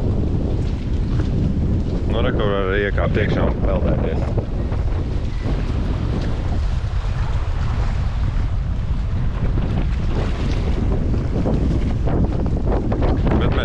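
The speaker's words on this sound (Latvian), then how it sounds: "Vējš drausmīgs. Drausmīgs vējš." Strong wind buffets the microphone at a beach beside the sea, a loud continuous roar with gusts throughout, while a person speaks briefly over it.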